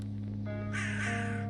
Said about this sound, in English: did you notice the crow sounds? Every time you click on something?